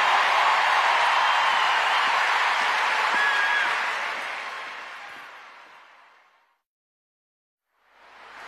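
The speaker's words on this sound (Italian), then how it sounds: "Fate un applauso, Alessandro." Large concert crowd applauding and cheering at San Siro stadium after a pop performance, a loud broad roar that fades away to silence before swelling up again at the very end.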